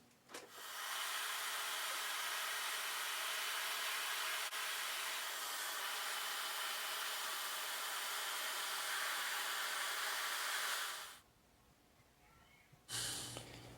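Heat is applied to bend wooden planks on a model of the 1851 ship America, a steady close blowing hiss like a heat gun running for about eleven seconds before cutting off, then a short burst returns near the end.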